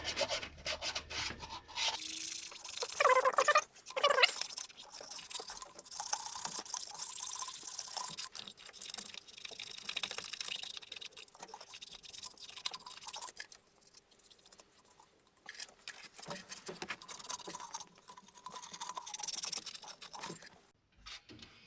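Soot and loose debris are scraped and sanded off the surface of an MGF 1.8 K-series exhaust manifold, a dry rasping rub repeated in irregular strokes with short pauses.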